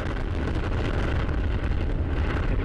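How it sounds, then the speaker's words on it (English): Atlas V rocket engines roaring at liftoff on the Mars Curiosity launch, a dense, steady, loud rumble with crackling texture that holds without a break. "Main engine start, 0, and liftoff of the Atlas V with Curiosity"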